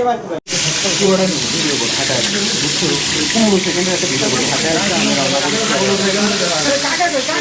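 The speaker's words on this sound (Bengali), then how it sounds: "অলরেডি কিন্তু আমাদের মাছ ভাজি শুরু হয়ে গেছে" Hilsa fish frying in hot oil at a riverside eatery at Mawa ghat, a steady broadband sizzle and crackle running throughout, with people talking underneath.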